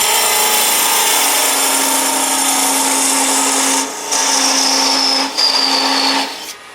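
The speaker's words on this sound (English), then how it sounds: "Then I'll go to a small parting tool" A small parting tool cuts into a spinning wooden box on a lathe, a loud, steady scraping whine with a humming motor tone beneath, briefly dipping twice as the tool lifts.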